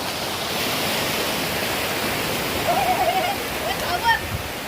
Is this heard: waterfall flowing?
yes